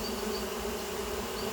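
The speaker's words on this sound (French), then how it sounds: "les abeilles sont déjà toutes rentrées dans le carton" Honeybees swarming into a cardboard box make a dense, steady buzz that is close and continuous, with no voices.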